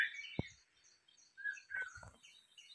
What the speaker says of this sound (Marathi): ओरिजिनल आवाज आहे बरं का पक्ष्यांचा ही